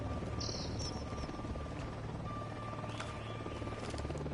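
A helicopter drones steadily at a distance in Ghost Recon Wildlands, a continuous low rotor hum and buzz under faint scattered game effects, with no break in its level.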